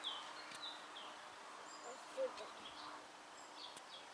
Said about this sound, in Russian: А там прям птицы поют.